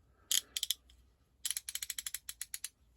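Quick bursts of sharp metallic clicks from a Draper Expert socket set ratchet: a short cluster of four clicks, a pause, then a longer, steady run of about a dozen crisp clicks, close and alone.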